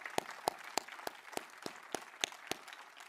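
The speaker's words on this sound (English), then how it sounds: "let's give a big round of applause to these brilliant projects and entrepreneurs around the world" Quiet, sparse applause at an awards celebration during a climate conference, heard as a thin run of about ten separate, evenly spaced claps.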